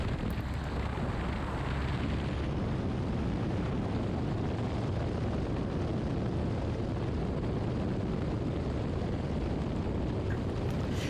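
Steady, loud roar of a small airplane in flight on the way home from a wing walking academy, with wind rushing and buffeting the microphone throughout and no talk.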